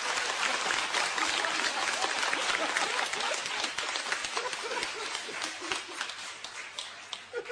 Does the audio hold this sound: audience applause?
yes